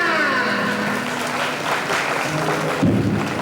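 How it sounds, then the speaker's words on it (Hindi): An audience at a Jain religious gathering in Mahmudabad claps steadily during a donation auction, a broad continuous patter that swells slightly near the end. "तालियां।"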